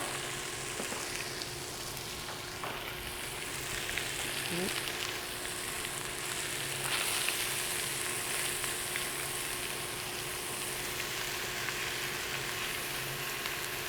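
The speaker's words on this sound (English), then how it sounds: "So I'm just going to add that onion into the pan now as well." Diced onion frying in a paella pan for chicken paella gives off a steady, moderately loud sizzle and hiss that holds evenly throughout, with a few soft stirring sounds.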